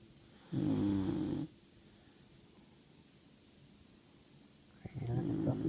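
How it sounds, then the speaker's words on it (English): A German Shorthaired Pointer snores after a long day at the beach, two loud drawn-out rasping snores separated by several seconds of quiet breathing, close to the microphone. "Hey, look at puppy. Snoring away."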